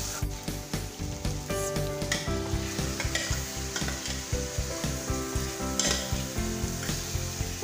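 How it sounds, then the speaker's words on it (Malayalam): Marinated mutton sizzles and fries with tomato and onion in a pan for a mutton kuruma, while steady rhythmic stirring scrapes through it. The sound is loud and close, with no talking. "ഇതിലേക്ക് നമ്മൾ മാരിനേറ്റ് ചെയ്ത് വെച്ചിരിക്കുന്ന മട്ടൻ ഇട്ട് കൊടുക്കാം"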